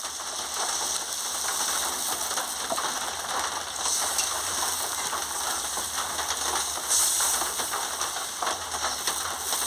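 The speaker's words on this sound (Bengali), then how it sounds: "এবারে পরিমাণ মতন জলটা দিয়ে দিচ্ছি" Water is poured into a simmering fish curry with potato and pointed gourd, giving a steady, close, fairly loud rushing hiss that holds evenly for the whole stretch with no talking.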